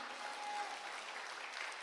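Congregation applauding warmly during a church service at a summer mountain revival meeting, a steady wash of many hands clapping continuously and alone for nearly two seconds.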